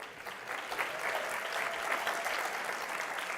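An audience at a corporate leadership luncheon program gives a sustained round of applause, dense steady clapping from many hands at moderate level throughout, with no voices over it.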